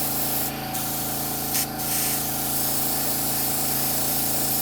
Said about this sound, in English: So spray it dead on center.